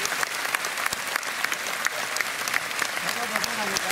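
An audience claps together to wish Dhanashree Tai a happy birthday at a gathering, a dense, steady round of applause with sharper individual claps and a hint of voices underneath.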